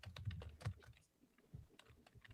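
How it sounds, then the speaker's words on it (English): Keystrokes clatter on a computer keyboard in quick, irregular bursts, with a burst near the start, a brief lull, then more scattered taps, picked up faintly and fairly close. "I can hear you typing."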